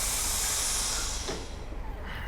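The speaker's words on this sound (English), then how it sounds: "Need to dump the brakes because" Loud sustained air hiss as the brakes of a BR green Class 33 electro-pneumatic diesel locomotive are dumped in Train Simulator Classic, steady then tapering slightly, heard alone with no talk.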